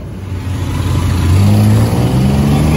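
A tuk-tuk engine in Bangkok revs up loudly and close by, its pitch climbing and holding in a rough, buzzing drone.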